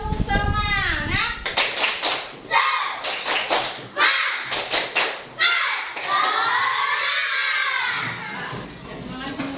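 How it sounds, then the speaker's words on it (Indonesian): Fourth-grade pupils in a classroom repeat the tepuk semangat clapping chant, a teacher's voice leading into rhythmic group claps and loud shouted chanting from the children, close and lively. "Sekali lagi, tepuk semangat."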